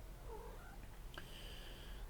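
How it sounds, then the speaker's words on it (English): A cat chirps near a streamer who is playing the game Hell is Us. It comes as a few faint, brief, high trills and a sharper chirp over a steady low hum, with no talk. "Cat over here is chirping at me."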